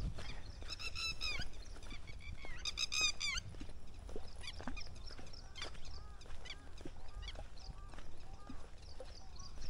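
A bird bathing beside a footpath along the Narmada river gives repeated high, wailing, child-like cries in short bursts over steady outdoor ambience, fairly distant and moderately faint, with calls clustering early then thinning out.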